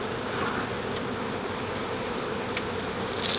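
Honey bees from a newly installed package hum steadily inside a hive, a continuous dense buzz heard up close with no voices.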